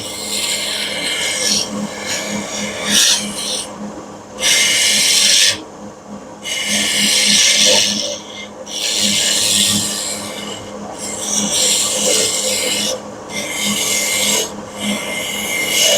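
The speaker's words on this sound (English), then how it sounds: "I'm going to switch back to the round nose scraper now." A round nose scraper scrapes across metal in repeated hand strokes, each a harsh rasp separated by short pauses, close and loud with no talk.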